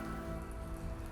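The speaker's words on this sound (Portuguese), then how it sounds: "mas nós apanhamos chuva mesmo" Steady, dense rain patters onto surfaces in San Francisco, a continuous wash of drops with no other sounds.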